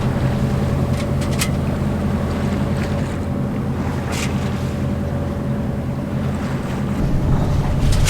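A sailboat motors across open sea in light wind, its engine a steady low drone under continuous wind and water wash, with spray hisses rising now and then.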